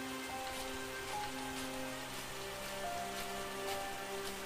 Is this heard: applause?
no